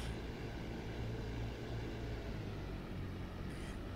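A Focke-Wulf FW190D propeller fighter in the DCS World flight simulator drones steadily through a go-around with flaps and gear up, a constant loud engine roar with no talk.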